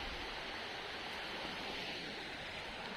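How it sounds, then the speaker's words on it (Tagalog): A river flowing in a rural outdoor setting, heard as a steady, full broadband rush of water that stays constant and fairly close throughout, with no voices over it. "May ilog pala dito, oh."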